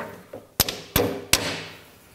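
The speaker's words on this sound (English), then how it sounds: "I can hammer it in there." Hammer blows drive a part into a LeBlond lathe carriage during a restoration reassembly: three sharp, loud metallic strikes spaced about a third of a second apart, each ringing briefly before fading, with no talking.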